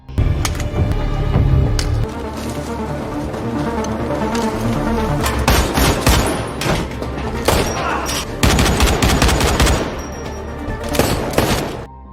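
Gunfire during a film car chase, with repeated sharp bursts and booms clustered near the middle and end over a dense, loud action score and engine rumble.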